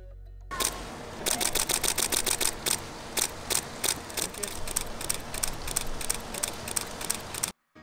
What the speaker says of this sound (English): That was the shutter of the EOS 5D Mark IV.